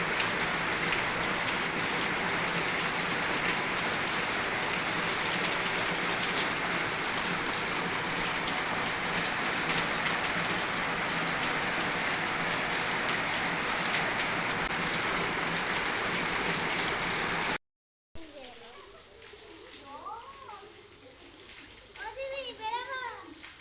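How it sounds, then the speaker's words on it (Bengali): Heavy rain pours down in a dense, loud, unbroken roar for most of the stretch; after a short break the rain sounds quieter and more distant, and children's voices are heard over it. "হয়তো আপনারা পাচ্ছেন বৃষ্টির আওয়াজ। প্রচণ্ড প্রচণ্ড জোরে বৃষ্টি হচ্ছে, প্রচণ্ড জোরে।"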